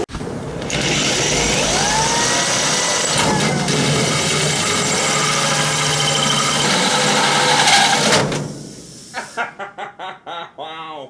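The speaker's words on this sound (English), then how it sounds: "And I can drill that hole through there." A drill bores a hole through the metal body of an airport limousine for a relocated fuel fill door, a loud, harsh, grinding whine held for about eight seconds, then a voice exclaims briefly.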